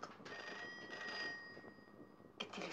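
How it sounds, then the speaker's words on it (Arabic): A telephone bell rings continuously and fairly loud in a domestic scene from an old Egyptian film, a steady tonal ring lasting over two seconds and stopping abruptly before a short noise. "التليفون. شوفي مين."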